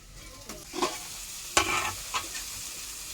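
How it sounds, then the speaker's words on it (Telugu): Onions, okra and tomatoes frying in a pan for an okra and silver prawn curry, a soft steady sizzle broken by several sharp spatula scrapes and stirs, close and moderately loud, with no talking. "ఉల్లిపాయలు బాగా వేగే వరకు వేపుకోవాలి ఫ్రెండ్స్"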